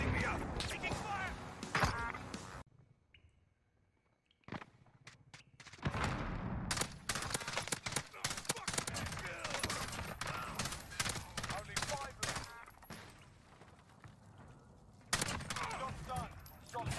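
Dense gunfire in the Warzone video game, with rapid bursts and single shots crackling on and off over a steady mix of game noise, broken by a brief quieter lull before the shooting resumes.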